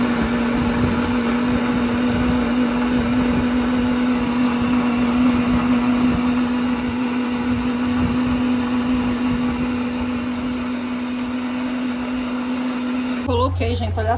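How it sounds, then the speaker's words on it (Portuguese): A household blender that needs cleaning purees corn and cream. Its loud, steady motor whine runs continuously before cutting off near the end. "Vou bater aqui, ó, no liquidificador."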